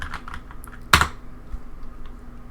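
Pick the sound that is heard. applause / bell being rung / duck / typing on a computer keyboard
typing on a computer keyboard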